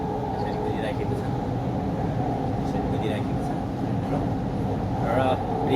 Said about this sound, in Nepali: मेट्रो कुदिराखेको छ यसरी है, यसरी कुदिराखेको छ